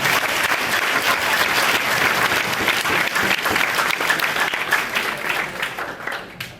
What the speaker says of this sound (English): Let's give them all a big round of applause for that.